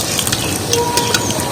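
Semolina-coated stuffed potato pieces frying in a pan, a close, even hiss of sizzling oil with scattered small pops and a faint tonal ring.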